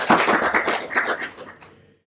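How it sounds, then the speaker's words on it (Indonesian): A church congregation applauds in a short burst of clapping that swells quickly, then thins out and fades to silence within about two seconds. "Berikan tepuk tangan bagi Tuhan kita."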